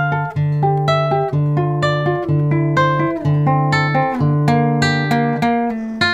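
A D Aeolian (natural minor) scale is played on a nylon string guitar as a steady run of plucked notes over a repeating low bass note. The notes sound warm and close, each attack decaying quickly, with no talking.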